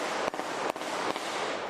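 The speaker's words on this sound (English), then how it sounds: "A Ring camera capturing the moment gunshots are fired" Three sharp gunshots caught by a Ring surveillance camera at 17th and Christian Streets, evenly spaced cracks about 0.4 seconds apart, heard at a distance over steady hissing background noise.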